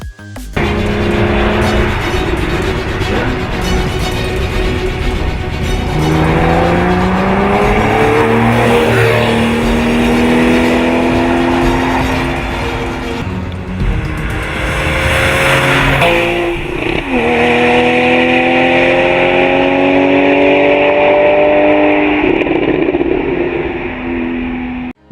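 A Porsche 911 Carrera S engine in a Need for Speed game revs loud and close, with rising gear pulls, a shift drop midway and sustained high revs, alone.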